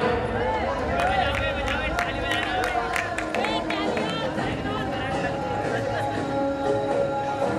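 Crowd at a Ramlila Ram Rajtilak and awards ceremony in Azadpur clapping amid continuous hubbub and chatter, a dense, steady wash of hands and voices.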